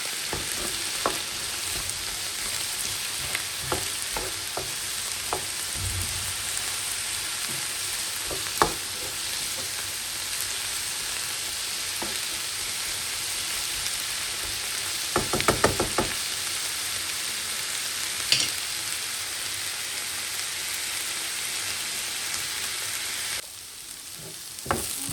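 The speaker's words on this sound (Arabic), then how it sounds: "غادي ناخذ هذه البصله غادي نشعل عليها ونخليها حتى تشحر مزيان مزيان وتعسل لينا هذه البصله" Onion slowly caramelizing in oil in a pan on a gas stove, a continuous even sizzle with occasional utensil knocks and stirring scrapes, no talk.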